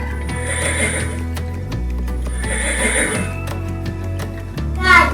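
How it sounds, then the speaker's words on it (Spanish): A horse whinnies in two drawn-out, high neighs, with a faster trailing cry near the end, over a steady mechanical clatter that could be galloping hooves. "Muy rápido el caballo."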